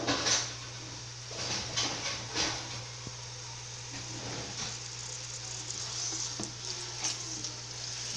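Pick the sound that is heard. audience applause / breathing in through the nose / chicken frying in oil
chicken frying in oil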